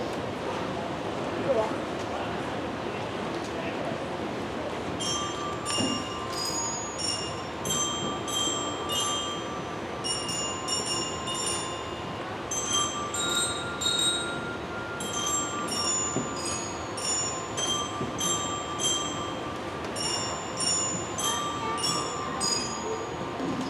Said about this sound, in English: we start all of our percussionists on the bells here at the back, also known by its German name, the Glockenspiel.